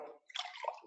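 Water splashes briefly into a glass, a soft, faint trickle lasting under a second in a quiet room.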